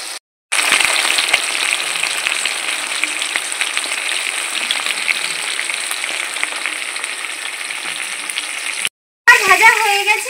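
Aar fish sizzling steadily in hot oil in a pan right after being turned over to cook the other side, a dense, continuous crackle with a short break near the end and a voice speaking briefly at the close.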